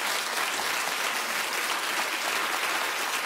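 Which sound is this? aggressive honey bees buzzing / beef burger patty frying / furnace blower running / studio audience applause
studio audience applause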